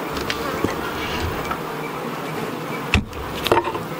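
Honeybees hum steadily around the entrance of a hive with a screenless bottom board. The buzz is a continuous close drone, with a couple of brief knocks near the end.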